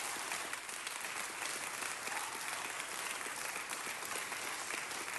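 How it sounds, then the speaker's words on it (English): Steady applause from an audience at a public farewell tribute, a dense even patter of clapping that carries through the whole stretch without speech. "let's give them a big round of applause"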